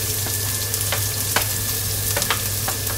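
Onion sizzling steadily in a hot pan for dinuguan, a Filipino pork blood stew, with a continuous frying hiss broken by a few sharp crackles and light stirring clicks.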